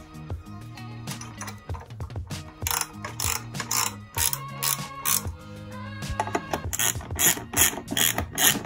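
A ratchet tightens a bolt on a Talaria Sting R MX4 electric dirt bike's seat subframe, giving repeated close clicking bursts in quick runs with short pauses between them, and no talk.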